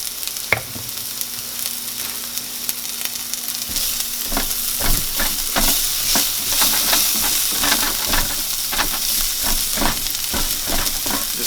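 Onions frying in a pan, loud close sizzling with repeated scraping strokes as they are stirred and separated, a busy irregular rhythm of clacks and hiss carrying through the whole stretch, no voices.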